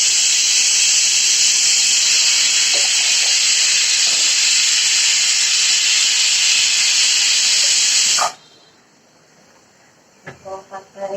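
A pressure cooker whistle hisses steam loudly and steadily for about eight seconds while sambar cooks, then cuts off abruptly, leaving a quiet room with a few faint clatters.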